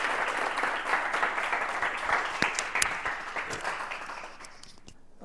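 A seated audience at a poetry recital applauds a performer coming to the stage, giving dense sustained clapping that thins out and fades to quiet near the end.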